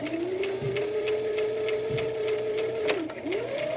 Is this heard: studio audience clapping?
no